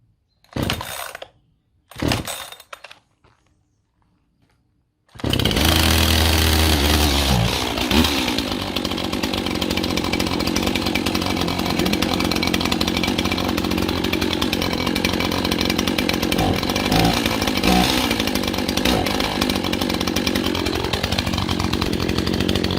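Petrol chainsaw on its first use, starting up after a few short pulls and then idling and running steadily, loud and close, with no talk over it.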